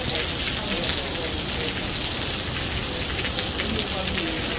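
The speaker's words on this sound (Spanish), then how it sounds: "Ay, está lloviendo mucho aquí." Heavy rain falling outdoors, a loud, dense, hissing patter that stays constant throughout.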